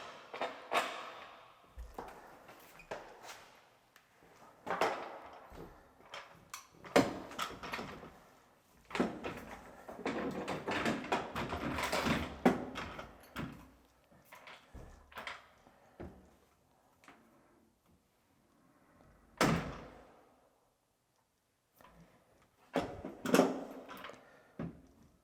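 A door being opened and closed indoors while setting up a 3D virtual tour, with irregular knocks, clicks and sliding thuds in short bursts separated by quiet gaps.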